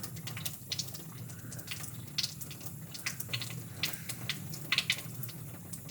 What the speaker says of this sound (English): Again, I'm going to rinse it.